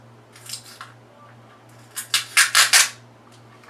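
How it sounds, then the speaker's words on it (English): Plastic seal being peeled off the top of an LA Girl powder container, a few faint crinkles followed by a cluster of louder, close crackling rips and a steady low hum beneath. "you have to take the plastic off the top."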